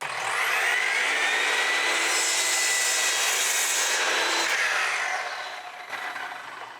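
A miter saw slices through several lined-up wooden boards at once, a loud close motor whine spinning up and cutting steadily for several seconds, then winding down.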